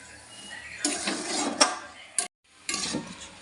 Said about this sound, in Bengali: আটাটা দিয়ে দিলাম, এবার নাড়িয়ে দিলাম।